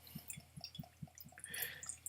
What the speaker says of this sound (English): So I'm going to pour this into my dirty little glass